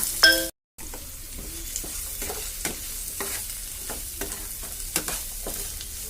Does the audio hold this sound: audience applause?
no